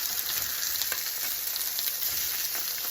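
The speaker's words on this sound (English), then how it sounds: "So now we're going to drain them and flip our bangers over." Bangers (sausages) sizzle and fry steadily in a pan as they are flipped, a continuous close crackling hiss with no talking.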